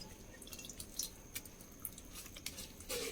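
Ragi mixture for halwa is strained and squeezed through a cloth into another vessel, giving faint wet drips and soft squishing bursts at close range.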